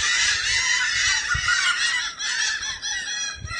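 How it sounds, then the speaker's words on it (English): Seagulls squawking by a boardwalk, a dense chorus of shrill, overlapping cries that carries on without a break, fairly loud and close, with no talking. "The seagulls are having a party."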